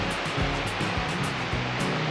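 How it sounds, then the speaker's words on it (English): A mountain waterfall in the Bighorn Mountains roars steadily and loudly up close, a constant broad rush of falling water filling the whole moment with no voices. "That is a beautiful waterfall."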